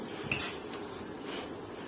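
Metal ladle scraping and clinking against a kadhai while stirring Maggi noodles, a few sharp clatters over a steady low background hiss, close and moderately loud.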